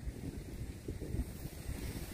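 Strong wind buffets the microphone in a continuous low rumble with gusty surges, loud and close, with no voices.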